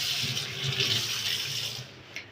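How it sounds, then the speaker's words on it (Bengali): Running tap water pours into a kitchen sink basin while a plate is rinsed, a steady close hiss of flowing water that stops abruptly near the end with a small clink. "থালাটাকে ধুয়ে নেব"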